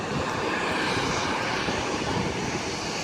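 A United airliner roars past at an airport, a loud, continuous broadband jet rush that stays steady through the whole short stretch with no voices.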